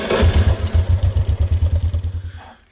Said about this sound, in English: Scout, you enjoy the gator rides